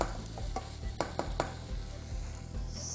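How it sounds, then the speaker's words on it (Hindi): Green chillies and lemon juice fry in a pan with a soft continuous sizzle, broken by a few sharp utensil clinks and stirring scrapes, close by. "इसको 1 और मिनट फ्राई करने के बाद"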